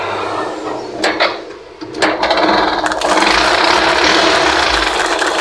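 A repaired Yamaha YTX 125 motorcycle engine idles close by, rising into a steady, even run without sputtering or misfires, with a few clicks and rattles near the start.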